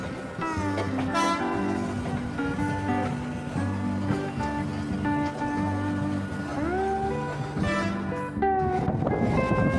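A goods train hauled by two G9 locomotives rolls past on the railway near Sealdah, a loud continuous rumble of wheels and wagons with repeated long horn blasts over it.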